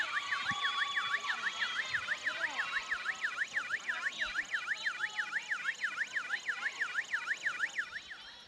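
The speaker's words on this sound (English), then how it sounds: "I think the buzzer malfunctioned a bit." A malfunctioning volleyball buzzer at a semifinal match wails in a fast, warbling up-and-down tone that repeats evenly for the whole stretch, loud over the faint murmur of the arena crowd.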